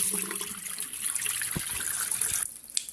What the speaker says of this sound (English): I have cleaned the pads, rinsed them good, no soap, just cold water